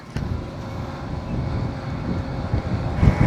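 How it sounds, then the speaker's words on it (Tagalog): Strong wind buffets the microphone in a steady low rumble that swells toward the end during a ride to Monte Maria in Batangas, with no talking. "Lakas ng hangin."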